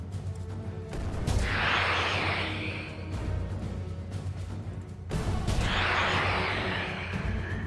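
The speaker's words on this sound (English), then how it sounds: "Oh yeah, the siege cannons." Siege cannons in the Master of Magic strategy game fire twice, several seconds apart, each a heavy boom with a long rushing tail over a low, steady battle drone.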